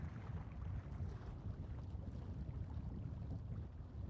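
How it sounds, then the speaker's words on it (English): Steady rushing water with Lake Superior waves washing and splashing continuously against shore rocks at Presque Harbor, mixed with breezy wind noise, no voices. "Waves running up against the rocks here."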